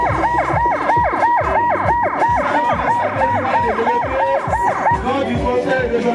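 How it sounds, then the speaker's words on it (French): A loud, close ambulance siren wails in a fast repeating rising-and-falling pattern at a street light festival in Nègrepelisse, with the crowd talking underneath. "il faut l'ambulance"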